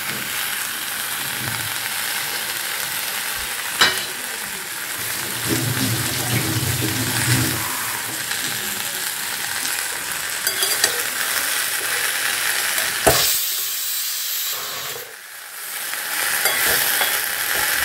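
Fish oil coated with turmeric and salt frying in a pan, giving a steady, close sizzle with occasional stirring clatter and brief utensil knocks, no talk.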